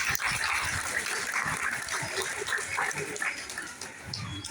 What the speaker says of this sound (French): Alors le cri d'otarie, on dit qu'elles aboient tout simplement.